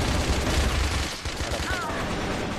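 Video game gunfire from a pistol and a sniper rifle, a dense and loud stretch of rapid shots that thins out partway, heard alongside game noise and faint voices.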